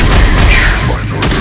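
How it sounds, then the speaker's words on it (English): Loud game explosion as a turret is destroyed in the Mobile Legends mobile battle game, a deep booming burst layered over a busy, continuous mix of game effects. "your team destroyed a turret"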